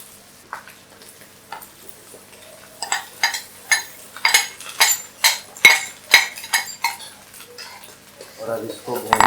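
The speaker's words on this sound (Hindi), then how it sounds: "अब इसके अंदर हम डालेंगे ये टमाटर और हरी मिर्चों का पेस्ट जो हमने बनाया हुआ है।" Tomato and green chili paste going into a hot pan and being stirred, a quick run of sharp metallic clinks and scrapes of a utensil against the pan, with quieter handling before it.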